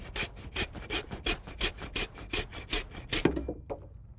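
A handsaw cuts through the base of a Christmas tree trunk in a steady back-and-forth rhythm of about fourteen rasping strokes, close and clear, stopping abruptly near the end.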